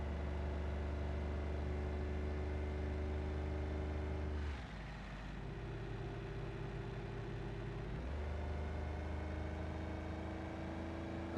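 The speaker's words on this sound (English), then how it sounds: "I'm surprised that this engine is holding up because it sounds like it's trying to give up." A struggling car engine in the BeamNG driving game drones steadily with low harmonic hum, dipping and roughening briefly midway before resuming its strained, labouring tone.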